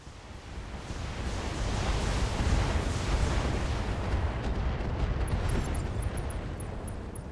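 A heavy missile salvo fired in a BattleTech BTA mod battle, a dense continuous roar of launches and blasts rumbling loudly throughout.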